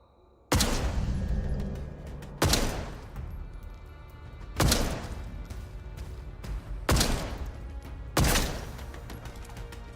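Rifle shots ring out in the video game Atomfall: five loud, booming reports spaced about two seconds apart, each trailing off in a long echoing decay.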